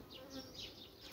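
Buzzing from a captured honeybee swarm in a hive, a steady, continuous hum of many bees with wavering higher whines from individual bees passing close, alone with no talk.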